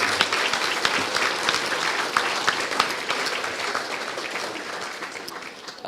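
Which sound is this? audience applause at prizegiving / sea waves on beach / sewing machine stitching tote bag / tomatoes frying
audience applause at prizegiving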